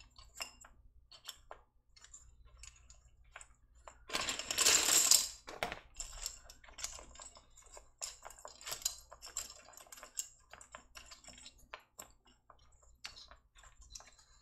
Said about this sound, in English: I am swapping keycaps